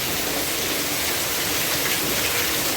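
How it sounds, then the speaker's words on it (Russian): Heavy steady rain pouring during a thunderstorm, a dense continuous hiss with no breaks and no voices. "Вот такая вот гроза у нас."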